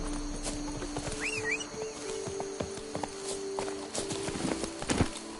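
The horse Roach clip-clopping along in The Witcher 3, a steady rhythm of close hoof beats over a faint ambient hum, with a brief whinny-like call early on.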